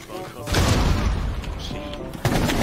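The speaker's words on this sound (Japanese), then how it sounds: "ニトロセル爆発" A nitro cell detonates in the tactical shooter Rainbow Six Siege, a loud close blast with a sustained rumbling roar lasting over two seconds and a second hit near the end, mixed with game effects.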